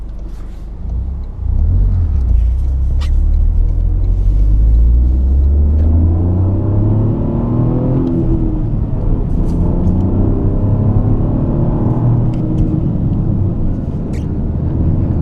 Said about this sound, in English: Packed snow road, and you know, accelerating feels like I'm on asphalt.